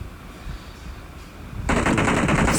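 Automatic gunfire from a weapon in the PUBG Mobile game breaks out after a quiet stretch, a loud, rapid burst of shots that keeps going to the end.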